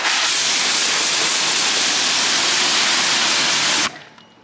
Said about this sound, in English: Spray all over, pressure wash straight away.